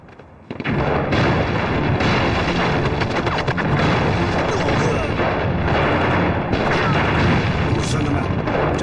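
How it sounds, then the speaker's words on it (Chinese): Battle scene in a war film about fighting Japanese troops: a sudden, loud wall of explosions and gunfire erupts and stays dense and continuous, rumbling heavily throughout. "黑子，爆炸弹"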